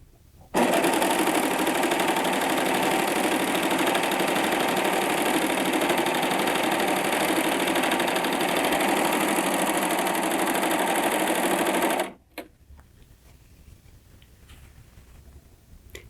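A Baby Lock Acclaim serger stitches a decorative stitch, its motor whirring loud and steady for about eleven seconds before stopping abruptly, leaving faint room noise.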